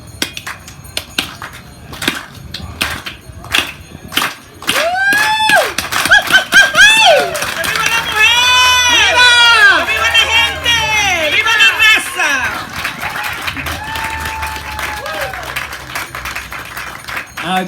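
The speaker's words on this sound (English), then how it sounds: "This is the Chicano clap." An outdoor daytime summit crowd performs the Chicano clap: separate slow claps speed up into rapid, dense clapping, then burst into loud cheering, whoops and shouts.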